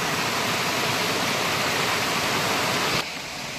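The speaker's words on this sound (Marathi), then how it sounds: "हे बघा मित्रांनो किती पाणी आहे पर्याला" Steady, loud rushing of a full stream pouring along its bed, a broad continuous wash that drops a little in level near the end, with no voices.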